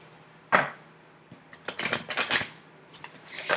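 Thick cardstock Goddesses of the New Light oracle cards being shuffled by hand, with a sharp riffle at the start and then a denser burst of quick flicking and sliding, close and fairly quiet in an otherwise still room.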